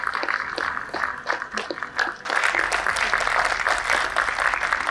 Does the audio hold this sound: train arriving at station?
no